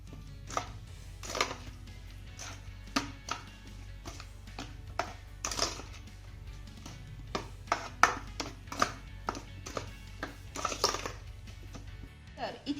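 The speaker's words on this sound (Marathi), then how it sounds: "आता हे घातलेले मसाले आपल्याला पुन्हा छान असे एकजीव करून घ्यायचे आहेत" A spoon stirs turmeric, garam masala and salt into curd, giving repeated soft scraping taps and clinks against the bowl at an irregular pace, fairly close, with a low steady hum beneath and no speech.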